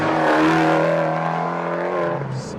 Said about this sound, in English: what is up with that exhaust note?